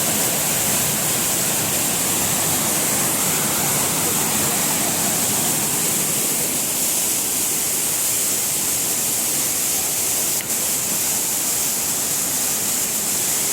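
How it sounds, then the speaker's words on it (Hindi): Floodwater rushes hard through a river in Deogarh district, Odisha, a steady, loud roaring wash that holds unbroken throughout with no voices over it. "देखो केते जोरे पानी जाऊँगी।"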